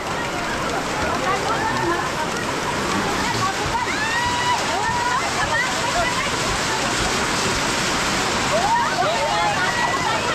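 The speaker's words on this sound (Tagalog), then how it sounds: "Ayan po guys, ulan." Steady rain pours down during an outdoor house blessing, a dense, even hiss of drops on surfaces lasting throughout, with faint voices murmuring underneath.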